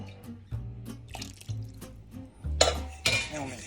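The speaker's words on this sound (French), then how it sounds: "Je finis de mélanger avec une fourchette pour éviter qu'il y ait des grumeaux et avoir une sauce parfaite" A fork stirs veal stew sauce in a pot, giving soft wet scraping and clinking strokes with a few sharper taps toward the end.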